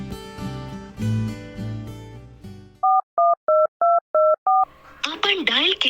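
A telephone number is dialed, producing six evenly spaced, clear keypad tones after a stretch of music and speech, followed by a voice on the line.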